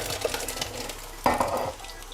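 A spoon scrapes and stirs a blended mixture into a pot of beef haleem, giving soft, irregular scraping with a couple of sharper clinks against the pot. It is fairly quiet and close.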